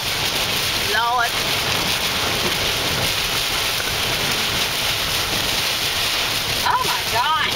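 Heavy rain roars down steadily and loudly in a continuous wash, with a voice briefly heard near the start and again near the end.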